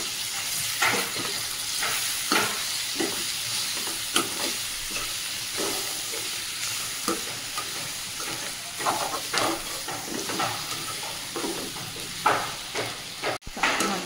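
Brinjal pachadi with coriander stirred in a pan on a South Indian stovetop: a steady sizzling hiss runs throughout, broken by repeated scraping strokes of the spoon against the pan.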